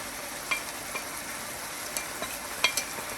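Garlic, turmeric powder and kasuri methi fry with a soft steady sizzle in a pan, punctuated by several light scrapes and taps of a stirring spoon.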